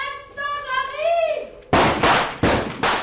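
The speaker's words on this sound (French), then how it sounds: "Mais des coups de feu, commissaire." Four sharp cowboy pistol shots ring out one after another, loud and close, following a stretch of voices talking.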